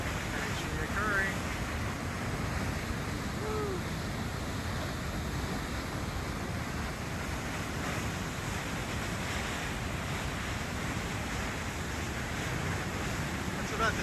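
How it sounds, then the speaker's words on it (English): Waterfall in a canyon in Jasper Park, Alberta, a steady roaring rush of water with heavy wind buffeting the microphone, constant and loud throughout with faint voices underneath. "where the waterfall is actually occurring"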